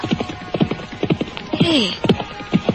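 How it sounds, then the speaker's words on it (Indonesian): Horse hooves clip-clopping in an audio drama sound effect, an even trotting rhythm of hoof strikes, moderately close, with a brief whinny-like cry partway through. "Aku mendengar langkah kuda dari arah lain"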